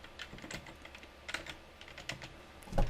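Keystrokes on a computer keyboard clatter in quick uneven bursts as text is entered into a spreadsheet cell, close and fairly quiet, with a louder thump at the very end.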